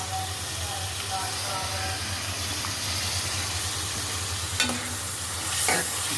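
Shrimp fry in a pan with onion paste, garlic paste, chili powder and coriander powder, giving a steady close sizzle with occasional stirring scrapes and clinks.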